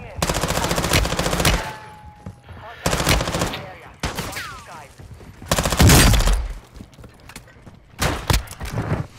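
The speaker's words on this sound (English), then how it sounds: "Shot him through the wall." Gunfire in a video game, with a shotgun slug fired through a house wall: several sharp, loud blasts in separate bursts, close and punchy, with muffled rumbling between them.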